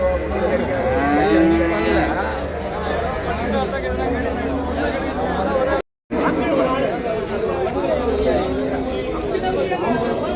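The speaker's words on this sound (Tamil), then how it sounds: "இது காங்கேயம் காளை நல்ல தரமான காளை தான்" Cattle low and moo at a busy Kangayam livestock market among calves and cows, steady animal calls rising over a constant crowd chatter and bargaining voices, with a brief dropout midway.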